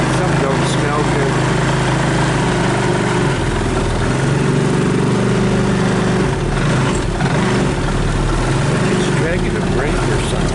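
A UTV/ATV engine idles close by with a rough, uneven low rumble that shifts in pitch partway through, while someone talks over it.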